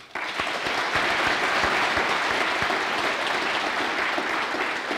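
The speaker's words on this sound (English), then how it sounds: "I'd like to get a good round of applause for Amy." An audience at a mental health seminar bursts into applause, many hands clapping in a dense, steady roar that starts abruptly and holds loud and close for several seconds without speech.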